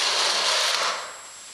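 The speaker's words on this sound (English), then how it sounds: "I'll fix it with this. Just countersink the holes a little bit." A countersink tool deburrs bolt holes in a part from a Pacemaker lathe, giving one short, close, high grinding whirr that fades quickly.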